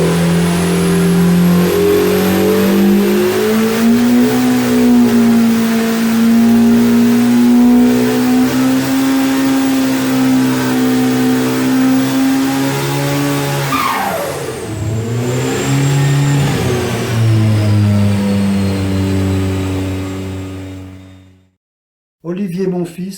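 A competition racing car engine holds a sustained, loud mid-pitched drone, revving up and down with a sharp pitch swing partway through before cutting out near the end, with a voice talking over it.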